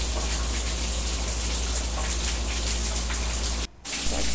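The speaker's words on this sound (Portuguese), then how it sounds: "Essa chuvinha continua" Steady light rain falls continuously at a household, a dense, even hiss with no voices, broken by a brief dip near the end.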